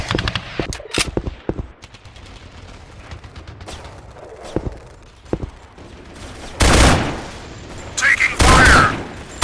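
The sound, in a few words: gunfire sound effects in Special Soldier video game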